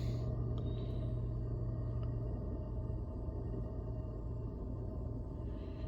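A diesel parking heater runs with a muffler fitted: a steady, low mechanical hum with a rumbling drone, continuous, muffled and fairly quiet, with a faint ticking now and then.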